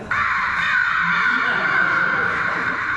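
A man at a live comedy show in Cleveland imitates a hawk's call, a loud sustained harsh screech held for about three seconds, close to the microphone and heard alone.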